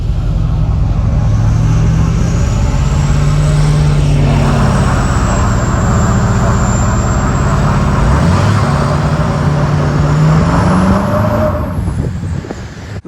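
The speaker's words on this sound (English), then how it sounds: "CJ's doing a fucking burnout right now." A pickup truck roaring through a burnout nearby, the engine holding a loud, sustained drone with a rising whine and tire hiss that fades slightly near the end.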